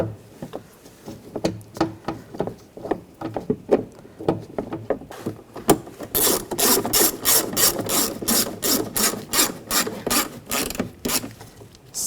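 A ratchet tightens the mirror bolts on a 2009-2017 Volkswagen Tiguan. Slow scattered clicks build into fast, loud, close bursts of ratcheting as the bolts are run down.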